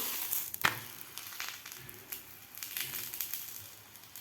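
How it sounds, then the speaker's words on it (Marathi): A jaggery and peanut poli roasts on a hot pan, giving a faint, close sizzle with scattered crackles and a sharper scrape or flip early on. "दोन्ही साईडकडून आपल्याला व्यवस्थित अशी पोळी भाजून घ्यायची आहे"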